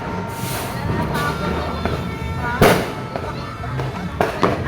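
New Year's fireworks burst and crackle all around outdoors, with scattered distant booms and one sharper nearby pop over a steady rumbling background.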